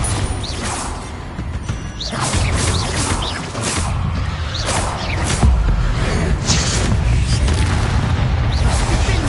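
Bombarda spell blasts in the video game Hogwarts Legacy, a run of deep booms and crashing impacts with whooshing effects over a dense, loud combat soundscape.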